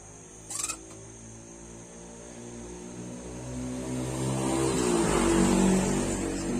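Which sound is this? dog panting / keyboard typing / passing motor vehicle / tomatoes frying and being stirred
passing motor vehicle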